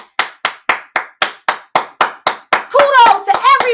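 A room full of people claps in a run of about ten sharp, evenly spaced claps, then breaks into dense, overlapping applause and cheering near the end.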